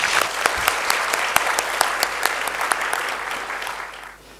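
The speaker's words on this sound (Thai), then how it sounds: "ขอเสียงปรบมือดังๆอีกครั้งค่ะ" Loud, sustained applause from a seated audience at a seminar opening ceremony, dense clapping running steadily throughout with scattered sharper claps, tapering slightly at the end.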